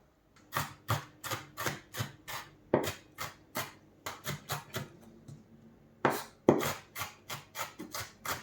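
A knife finely chops ingredients on a board with quick, close, crisp taps in short rhythmic runs separated by brief pauses, with no voices over them.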